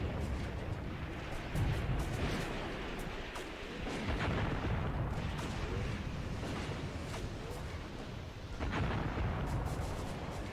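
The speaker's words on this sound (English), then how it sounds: "My infantry guns opening up." Infantry guns firing in the Graviteam Tactics war game, a steady wash of rumbling, booming artillery-like blasts with repeated sharp reports over a dense battle din, no voices.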